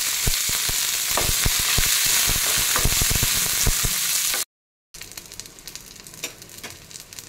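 Curry leaves and coriander stems sautéing in a hot pan for a ridge gourd chutney, giving a loud, continuous sizzle with scattered crackles and spatula scrapes, a brief silent gap, then quieter frying.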